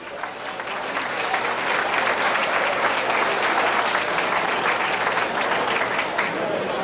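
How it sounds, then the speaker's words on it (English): Audience applause at a Highland Speedway awards banquet in Highland, Illinois, a dense, sustained wash of clapping from a large crowd filling the room for several seconds. "How about a big round of applause for all of our guests here this evening"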